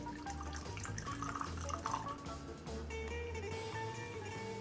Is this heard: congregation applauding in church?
no